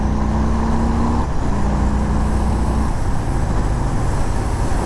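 A 2019 Harley-Davidson FXDR motorcycle accelerates hard to overtake on the road, a loud, continuous engine roar mixed with rushing wind that shifts in pitch partway through as it pulls ahead.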